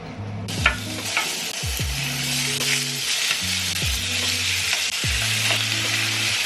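Korean short ribs fry in homemade beef tallow, giving a steady, loud sizzle that fills the whole clip, broken by a few sharp spatters and pops. No one speaks.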